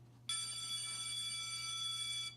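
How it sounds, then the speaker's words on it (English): A school bell marking the end of class rings as a steady electric tone, starting abruptly and holding evenly for about two seconds before cutting off, fairly faint and alone. "The ringing of a school bell indicating the end of class jolts you out of your thoughts"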